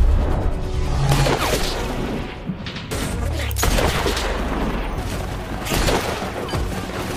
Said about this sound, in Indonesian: Tidak lama kemudian seorang prajurit penjaga menara ditembak oleh sniper musuh.